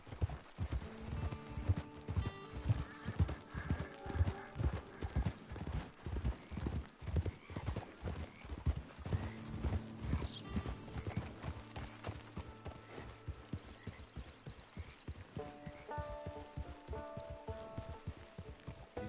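Steady clip-clop of horse hooves at a walking pace in a video game, close and fairly loud, with a horse whinnying partway through over low background music.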